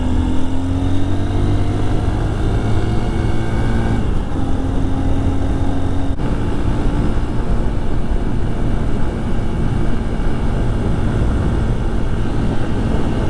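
A Honda motorcycle climbs a steep grade on the Blue Ridge Parkway at the speed limit behind a car, its engine humming steadily and loudly over continuous wind rush, with slight pitch shifts as it works uphill.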